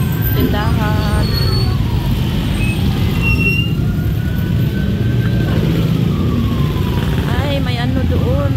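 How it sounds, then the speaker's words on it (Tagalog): An ambulance siren wails through dense Manila street traffic, rising and falling over constant loud engine rumble and horns, with people talking nearby. "Dito, ambulansya. Ambulance."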